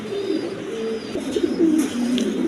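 Pigeons coo in a low, rolling murmur, several birds calling back and forth close by in a loft for sale, steady and unbroken for a couple of seconds.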